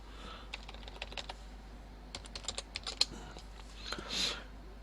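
Typing on a computer keyboard: quiet, close key clicks in irregular short runs, with a soft swell of noise near the end.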